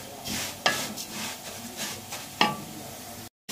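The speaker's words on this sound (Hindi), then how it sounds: "सवैयां जो है वो हम भून रहे हैं" Handmade vermicelli (seviyan) being dry-roasted in a pan for a sweet dessert, with a steady soft scraping and faint sizzle, and two sharper spoon knocks against the pan, close and alone.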